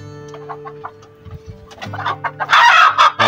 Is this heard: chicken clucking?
yes